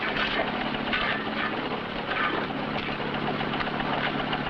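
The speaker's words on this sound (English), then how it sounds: "Cut that engine." An engine runs steadily at a rock drilling site at night, a continuous mid-pitched drone with a faint knocking rhythm and no voices.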